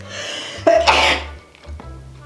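A single sharp sneeze, preceded by a brief intake of breath, close and loud, with quiet room tone after.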